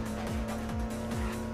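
Engine of a car driving in the video game Midnight Club 2, a steady loud motor drone with repeated gear-shift sweeps roughly every half second, continuous throughout.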